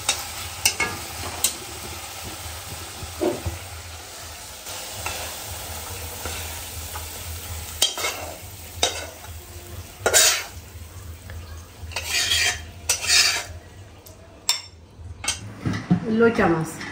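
Loitta dried fish bhuna being stirred in a pan, with scattered scrapes and utensil clinks over a low sizzle, some louder clatter toward the end and occasional voices in the background.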